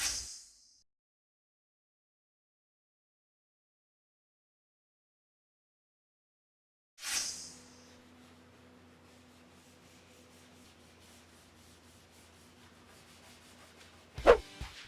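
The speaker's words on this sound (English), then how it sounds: "I'm just using a regular red scuff pad to scrub this down and give the bed liner some tooth." A red scuff pad scrubs a truck bed liner in a continuous, faint, close rubbing rasp after a long silence, ending with a sharp knock.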